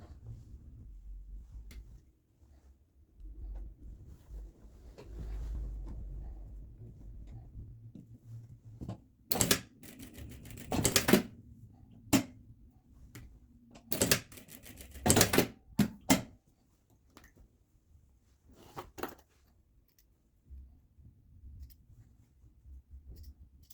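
A sewing machine stitches the seam of a dress, running in several short bursts of rapid mechanical ticking separated by quiet pauses, heard close up.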